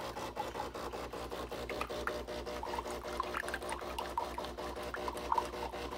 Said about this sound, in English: This is going to be a fresh water rinse.